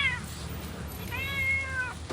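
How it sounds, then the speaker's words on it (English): A frightened cat rescued after a house fire meows twice, long drawn-out cries over steady low background rumble, fairly faint and with no talking. "There's one scared cat."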